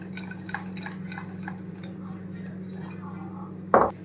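Pancake batter of sifted flour is mixed in a bowl, with soft repeated stirring and scraping under a steady low hum, and a sharper clink near the end.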